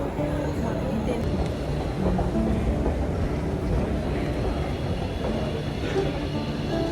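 A Rome metro train rolls along with a steady, dense rumble and clatter throughout, heard from inside the carriage with faint voices underneath.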